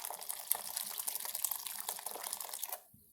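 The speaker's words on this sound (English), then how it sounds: "we can even go ahead and put in some of this lychee nut juice" Lychee nut juice pours into a blender with a steady splashing, trickling liquid sound that runs for a few seconds and then stops abruptly near the end.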